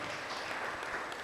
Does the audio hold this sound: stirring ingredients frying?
no